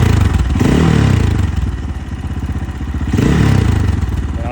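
An X Pro motorcycle's engine, warmed up after an hour's ride, runs loud and close in a steady thumping idle that swells and eases a couple of times, with no talking.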